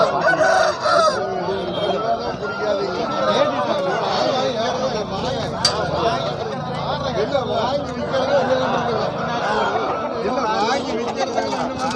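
Roosters and other fowl crow and squawk repeatedly amid a busy crowd at a rooster market in Kavundapadi, India, with several people talking nearby.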